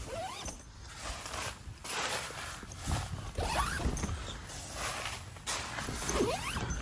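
Window zippers on an OVS hub tent are drawn open in several smooth, quick pulls, close by and fairly quiet, with some rustling of tent fabric between them and no talking.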